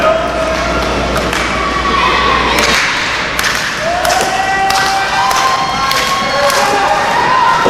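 A tag team wrestling crowd cheers and shouts loudly and continuously at a live indoor show, with thuds and a few sharp slaps cutting through the noise.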